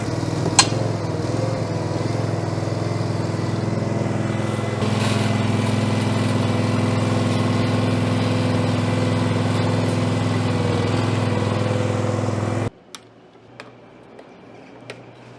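A Westermann CM2 multifunctional farm machine on a dairy cow farm runs at a steady, droning engine note close by for about twelve seconds, then shuts off abruptly, leaving faint background noise.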